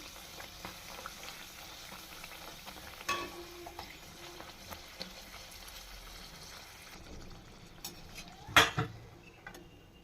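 Luchi puffing in hot oil, a soft, steady sizzle with light bubbling, a few faint clinks of a utensil against the pan and one brief sharper scrape toward the end.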